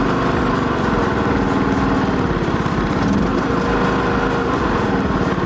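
Cummins diesel engine with a P7100 governor raising RPM while driving, a loud continuous close engine drone with a dense rumble that holds steady throughout.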